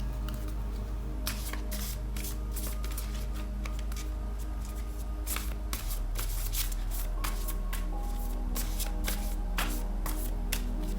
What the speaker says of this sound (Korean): 여기 오라클 카드가 있는데 이 오라클 카드를 통해서 알아보기로 해요